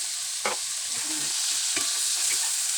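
Pork lung frying and being stirred in a pan for Kapampangan kilayin, a steady close sizzle with occasional scraping stirs and no talking.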